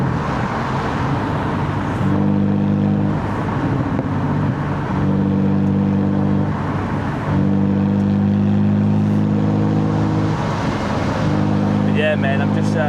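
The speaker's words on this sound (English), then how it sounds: "Just hearing this engine. Can't get sick of it." A BMW 125i with the N52 engine pulls along while driving, its steady harmonic drone rising and falling with throttle, close and continuous, with a voice talking over it at times.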